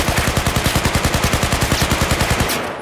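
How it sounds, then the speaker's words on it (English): Rapid automatic gunfire from hip-fired weapon in a first-person shooter game, a steady burst of evenly spaced loud shots for about two and a half seconds, then stopping abruptly with a short tail. "I am so confident in my hip firing now with this gun."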